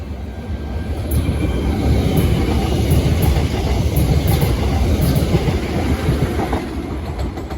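Southeastern Class 465 electric train running past on a south London line, a loud sustained rumble of wheels and rails with rhythmic clickety-clack over the joints, close by and unbroken throughout.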